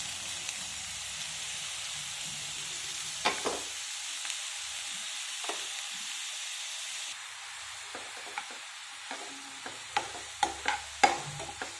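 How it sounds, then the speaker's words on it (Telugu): Sliced onions fry in hot oil in a pan for a beans curry, a steady sizzling hiss broken by scattered scrapes and taps of a spatula, sharper and more frequent near the end. "ఆయిల్ హీట్ ఎక్కాక ఉల్లిపాయ వేసుకుందాము."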